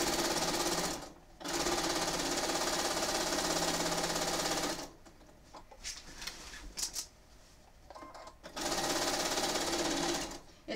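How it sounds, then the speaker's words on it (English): A sewing machine runs a basting stitch across a quilt in two long, loud bursts of rapid mechanical whirring. Between them comes a quieter stretch of handling clicks and shuffles. "the first thing is the basting stitch"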